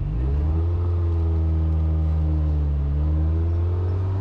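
A Ferrari 348 engine hums steadily and revs with rising and falling pitch, loud and close, running continuously without voices.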